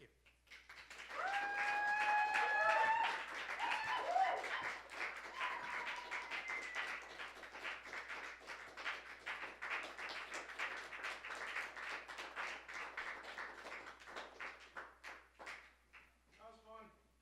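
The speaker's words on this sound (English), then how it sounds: "Give him another round of applause." Audience applause and clapping after a poetry performance, swelling quickly to a dense, loud ovation with some cheering voices mixed in, holding steady for many seconds and then thinning out near the end.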